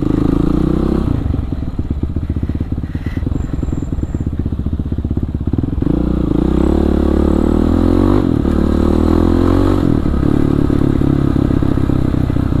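A Kawasaki KLX supermoto bored up to 450cc starts up and settles into a loud, steady, throbbing idle with a few clattering blips, heard close by.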